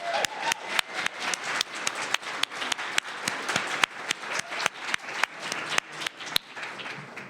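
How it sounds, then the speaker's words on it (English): Applause from an audience at a 2023 commencement awards ceremony, with many hands clapping in an uneven but steady patter and sharp individual claps standing out near the microphone throughout. "I'm going to get another round of applause here."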